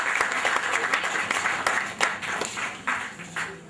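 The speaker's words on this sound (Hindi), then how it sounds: "अशोक महेश्वरी जी के लिए एक बार जोरदार ताली।" An audience at a book release event applauds in a sustained round of clapping, with individual claps standing out over a fairly soft, continuous patter.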